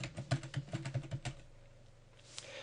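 Computer keyboard keys tap in a quick, fairly quiet run of about a dozen clicks, then stop, leaving faint room noise with one last soft click.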